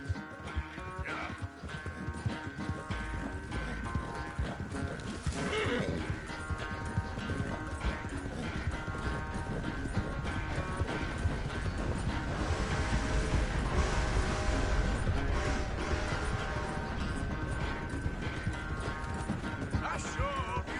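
Horse hooves clip-clopping at a steady gait in Red Dead Redemption 2, with a brief whinny and game music underneath and voices talking over parts of it.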